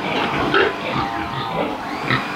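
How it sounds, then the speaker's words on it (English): Pigs in a piggery barn, including sows and a boar, grunt and oink continuously in a loud, close, dense chorus of overlapping snorts and squeals. "A little update on the pigs."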